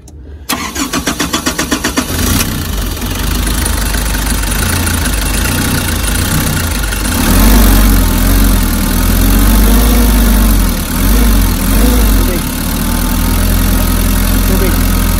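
A car engine cranks with rapid rhythmic turning, catches and settles into a loud, steady idle with a couple of revving swells, up close. The engine has a holed exhaust packed with crude oil and is throwing white smoke.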